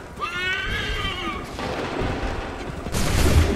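Musket volleys crack in Assassin's Creed Remastered, a broad gunfire burst near the middle and another louder one at the end, with a horse whinnying early on amid battlefield noise.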